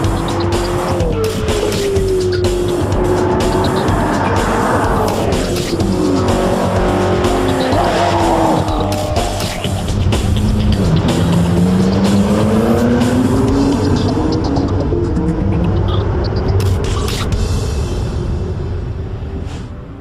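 McLaren MP4-12C prototype supercar lapping the Valencia race track in Spain, its engine loud and sustained, with rising and falling revs through gear changes and tire squeal through the corners.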